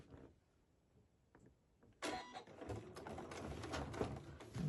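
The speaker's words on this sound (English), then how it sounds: "I'm going to start sewing my 1/4 inch from there" A sewing machine stitching a quarter-inch seam on quilt binding starts after a few quiet taps and then runs in a fast, steady rattling whir up close.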